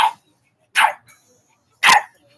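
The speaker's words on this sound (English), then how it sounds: "That's my little nephew's dog." A small dog barks three times close by, sharp separate barks with short silent gaps between them.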